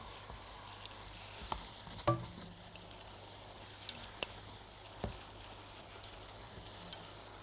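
Finely chopped onion fries gently in oil in a pot, a faint, quiet sizzle with scattered stirring clinks and taps, one sharper knock standing out.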